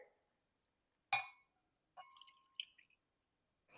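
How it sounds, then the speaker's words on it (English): Instant coffee dissolved in water is poured into a glass while assembling a low-carb pumpkin spice latte. A few brief, quiet splashes and a clink sound against near silence, with no talking. "we're going to first be adding our coffee that we dissolved in water"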